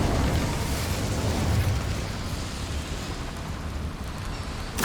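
Incendio fire spell cast in Hogwarts Legacy, a loud, sustained roaring burst of flame with heavy low rumble that holds steady for several seconds before easing slightly.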